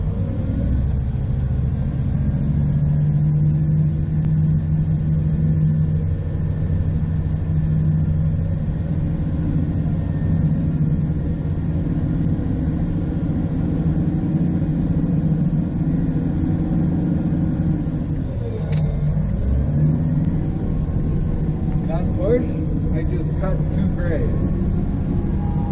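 A GPS-guided bulldozer drives forward on automatic control, its heavy diesel engine droning steadily and loudly throughout, with a brief dip and shift in pitch near the end.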